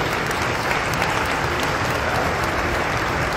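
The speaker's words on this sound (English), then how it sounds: "on peut applaudir s'il vous plaît" Audience applause at a fan event in Paris: a loud, dense, steady wash of clapping from a large crowd filling the room, holding evenly throughout with no talk over it.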